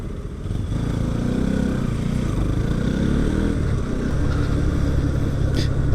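A motorcycle engine, from a ride with a Duke 200, Royal Enfield 350 and Hornet, drones steadily close up, with a rising and falling mid-pitched hum over several seconds.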